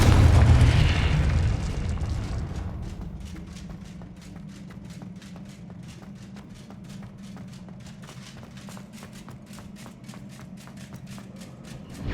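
A Confringo spell explosion in the Hogwarts Legacy video game: one loud, deep boom at the start that fades over a second into a low, steady rumble with faint rhythmic ticking behind it.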